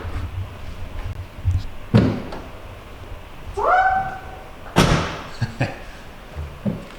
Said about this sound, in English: Squeaky doors.